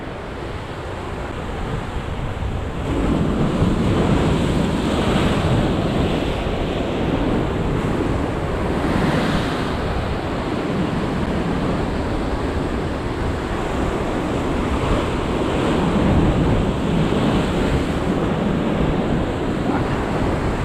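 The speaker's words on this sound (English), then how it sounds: "Here comes the wind." Strong wind gusts sweep across open ocean water with breaking surf, a steady, loud, broadband roar that swells and eases without pause, with microphone buffeting and no speech.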